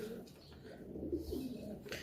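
Pigeons coo softly at a busy pigeon market in Lahore, low, rolling calls set against a murmur of crowd noise.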